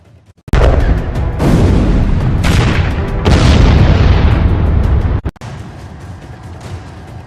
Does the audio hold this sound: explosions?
yes